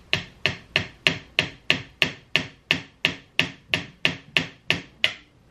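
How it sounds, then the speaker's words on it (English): Hammer blows strike a thin piece of wood in a dark, cramped spot during a budget fall project, about thirteen sharp, evenly spaced knocks that ring out loud and close with no talking. "I'm gonna grab a hammer."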